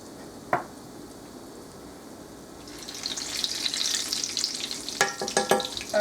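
Potato-stuffed papa rellenos frying in hot oil: a faint sizzle that swells into a loud, crackling bubbling, with a sharp tap near the start and clinks and stirring toward the end.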